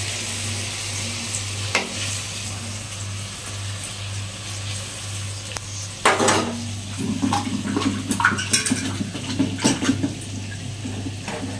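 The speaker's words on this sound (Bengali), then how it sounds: "এই যে এগুলো ভাজা হচ্ছে এখন" Rasbara lentil fritters fry in a pan of hot oil with a continuous sizzle, joined by louder bursts of bubbling and stirring in the second half.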